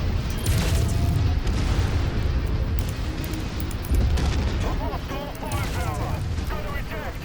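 Dense, continuous gunfire and booming explosions from a MechWarrior 5: Mercenaries battle, loud and layered throughout, with heavy low rumbles and mechanical clatter in a steady barrage.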